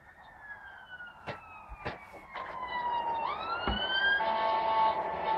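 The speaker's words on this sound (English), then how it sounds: "That's an ambulance." An ambulance siren wails through a city centre, its rising and falling tone drifting lower as it passes and then growing louder and nearer, with a few sharp knocks and traffic noise underneath.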